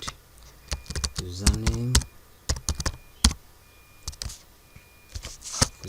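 Close, fast keyboard typing fills the field in short clustered bursts, interrupted by a brief stretch of spoken words in the middle.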